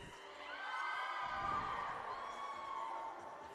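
A home crowd cheers at a college gymnastics meet, Georgian Court against Long Island, swelling into a broad roar of whoops and shouts that holds steady, then eases slightly toward the end.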